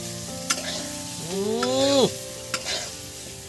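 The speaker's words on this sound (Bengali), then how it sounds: "আর বন্ধুরা নেড়ে চেড়ে দিচ্ছি" Jeera potatoes with Kashmiri chilli are stirred in a frying pan over a soft background sizzle, with scattered spoon clicks and a rising, squealing scrape of the utensil against the pan near the middle, no voices.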